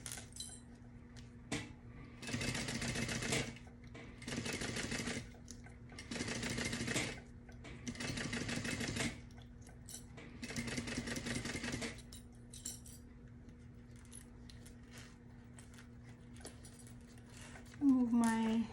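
Sewing machine running long basting stitches on a convertible tote bag, five or six rhythmic bursts of a few seconds each separated by pauses, close and moderately loud, with soft handling clinks between runs and a faint voice.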